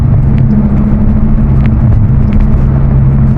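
Close, loud Lamborghini engine noise under throttle, heard from the cabin as a continuous deep rumble with a steady humming tone that dips slightly midway, and no one talking.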